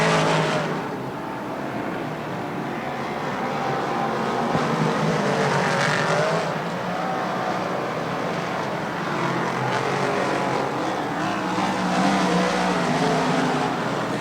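Race cars thunder around Lernerville Speedway in a continuous, loud roar of engines that swells and fades slightly as the pack passes, with no talk over it.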